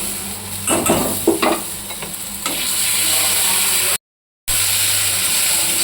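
Spice paste with onions and chili paste frying in a pan gives a steady, close sizzle, with a few stirring scrapes early on and a brief dropout near the end.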